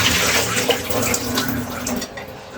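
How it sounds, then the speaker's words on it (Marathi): Clean water is poured steadily over homemade butter to rinse it before it is cooked into ghee, a continuous close splashing and gurgling that tapers off near the end. "आणि आता अजून याला दुसरं पाणी टाकते स्वच्छ"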